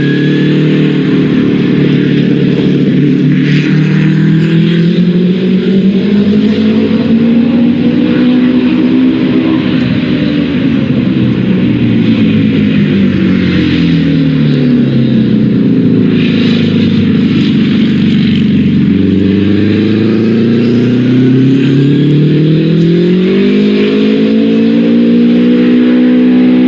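A 1960s Novi race car engine during Indy 500 qualifying, a loud continuous roar that swells and dips in pitch as the car works through the laps, heard alone without voices.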